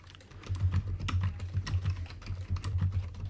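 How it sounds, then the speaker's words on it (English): Rapid, uneven typing on a computer keyboard during a live stream, with the keystrokes clattering steadily and close throughout. "Typing furiously. Live on the stream, typing."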